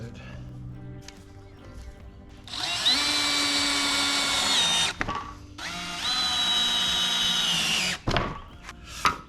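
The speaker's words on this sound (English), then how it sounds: "lay the new piece down, and then tack it down with some screws" A cordless power drill drives screws through a new plywood deck piece on a jon boat being converted to a bass boat, two steady whirring runs of a few seconds each that rise in pitch, close and loud, with speech heard around them.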